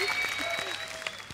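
Studio audience at a comedy talk show clapping loudly, a dense, even burst of applause with some faint voices mixed in, lasting about a second.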